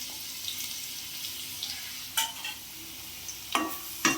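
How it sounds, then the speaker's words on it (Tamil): Grated garlic hits hot oil in a pan and sizzles steadily, a close, even hiss with a few brief stirring scrapes, no voices, while making homemade wheat noodles. "இப்போ துருவி வச்சுருக்க பூண்டை போட்டுடலாம்."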